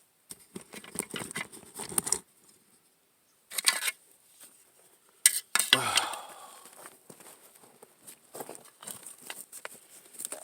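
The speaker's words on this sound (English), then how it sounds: "I've been scooping it and brushing it." Bedrock material from Lynx Creek is scooped and scratched into a plastic bottle in close, quiet bursts of gritty scraping, rattling and patter, separated by silent pauses, with one sharper clunk midway.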